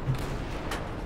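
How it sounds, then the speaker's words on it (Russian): A couple of muffled gunshot bursts in the distance in the video game Darkest Hour: Europe '44-'45, over a low, steady background rumble, with no talking. "Кажется, это слева стрельба"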